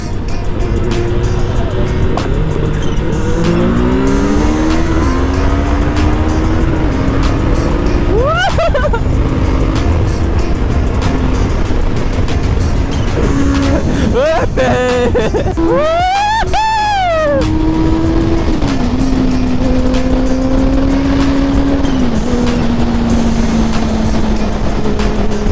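Two motorcycles, a KTM Duke 390 and a Benelli 600i, race on the road, engines revving and rising in pitch through the gears with wind noise throughout, one bike shifting and passing close by.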